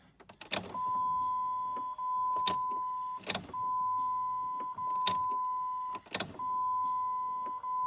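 An old Jeep is primed after a few gallons of gas go in: sharp mechanical clicks come every second or so, with a steady electric whine running between them, close and clear.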